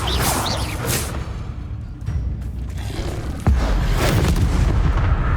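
Bombarda blasting spell in Hogwarts Legacy: a dense barrage of heavy booming explosions and whooshing bursts, loud and close, with a deep rumbling blast hitting about midway and sustained crackling roar afterward.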